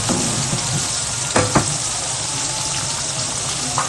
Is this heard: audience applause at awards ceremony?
no